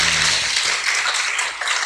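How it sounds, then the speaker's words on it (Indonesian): Audience applause for Diva at an Islamic talk session, a dense steady wash of many hands clapping close and loud for a couple of seconds, with no voices over it. "Tepuk tangan untuk Diva."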